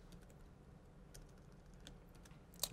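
Typing on a computer keyboard during a Windows 8 virtual machine demonstration at a conference, a steady run of light, scattered key clicks ending in one sharper tap, faint and close with no speech.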